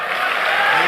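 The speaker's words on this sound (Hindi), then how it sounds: "तालियां तो जोर नाल बजाओ" Brief, dense crowd applause at a company anniversary celebration, a steady wash of many hands clapping as a performer arrives, with no pauses.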